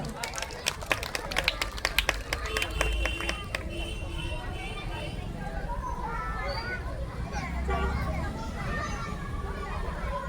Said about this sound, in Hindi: प्लीज एक बार जोरदार ताली हो जाए